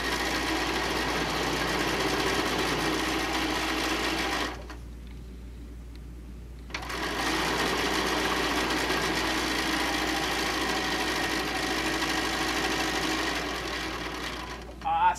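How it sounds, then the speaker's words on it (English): Sewing machine running down the side seam of a tote bag, a steady close mechanical whir that pauses for about two seconds midway, then resumes and continues, with a voice talking over it. "Put our presser foot back down and off we go down the side seam."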